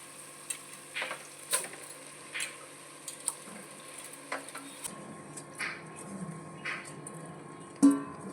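Soaked rice being stirred into egg biryani in a pan over a low gas flame, a series of soft scraping, shuffling strokes with a faint sizzle underneath, close and fairly quiet with no talking.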